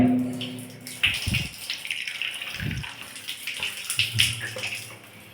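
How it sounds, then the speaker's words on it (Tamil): Steady rush of running water spraying down, continuous and fairly close, with a few louder splashes and low thumps partway through. "ஷவர் எந்த அளவுக்கு வருதுன்னு மக்களே பாருங்கள்"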